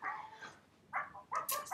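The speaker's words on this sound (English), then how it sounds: "Sorry, that was the dog." A dog gives a few high, yappy barks in quick succession, close by and moderately loud, with brief pauses between them and no talking.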